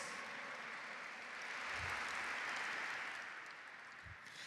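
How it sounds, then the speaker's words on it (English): Quiet applause from an audience at an American Indian Heritage Month celebration honoring dancers, a soft, fairly distant wash of clapping that swells slightly in the middle. "So we can get a round of applause for all of our dancers."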